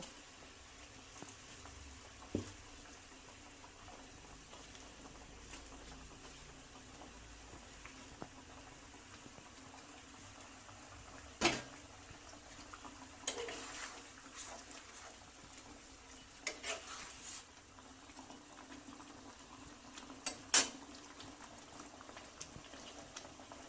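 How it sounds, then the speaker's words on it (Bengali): Cabbage curry gravy simmering in a pan, a soft steady bubbling with occasional louder pops and spits, close and fairly quiet, with no talking. "গ্রেভিটা ফুটে উঠেছে"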